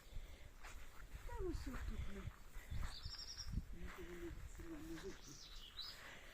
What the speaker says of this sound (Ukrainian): Ой, і пташки ще цвірінчать.